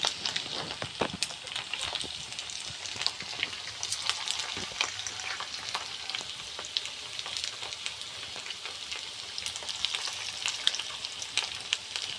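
A rice-based snack frying in a pan gives a close, continuous sizzle scattered with sharp pops and crackles, steady and unhurried for the whole stretch, with no voices.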